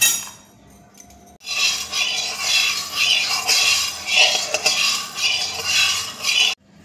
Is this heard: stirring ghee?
yes